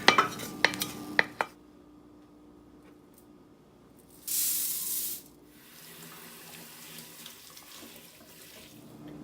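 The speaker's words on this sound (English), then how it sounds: "I'm just gonna dump them now into the crock pot" Sautéed vegetables are dumped from a pan into a crock pot for an Italian sausage and lentil stew, with a burst of clanks and scraping at first, then quiet, then a brief rushing slide.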